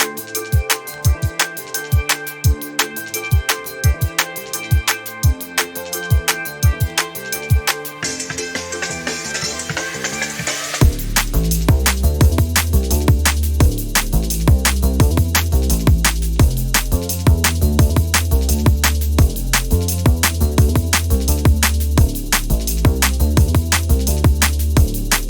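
A drum and bass track plays loud and close, opening with a sparse ticking intro before a heavy bassline and fast breakbeat drums crash in around the midpoint, with no talking.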